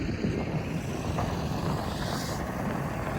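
Wind buffeting a microphone outdoors beside a truck driver wearing a face mask, a continuous low rumbling roar with fluctuating gusts and no clear speech.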